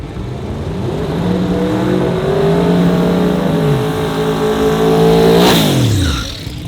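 Nitrous drag racing cars launch and accelerate hard at a drag radial shootout, a loud, close engine roar climbing in pitch through gear changes, then sweeping past with a sharp swell before fading.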